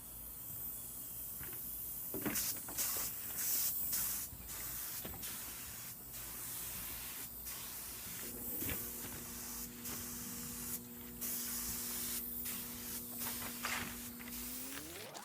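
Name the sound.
spraying splatter onto a decorative table surface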